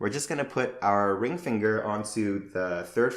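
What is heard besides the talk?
No everyday noises stand out.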